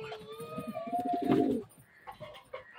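A male pigeon at a bird seller's coos close by in a throaty, rolling phrase lasting over a second, followed by softer scattered sounds.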